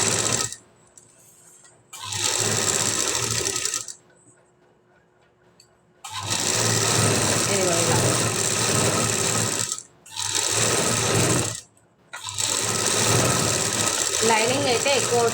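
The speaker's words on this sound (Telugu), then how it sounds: "మనము లైనింగ్ మీద చుట్టూరా ఇలా ఒక స్టిచ్ అయితే వేసుకుంటూ రావాలి ఫ్రెండ్స్" Sewing machine stitching around the lining of a work blouse, running in three long bursts of steady close whirring, broken by short pauses with faint room tone between them.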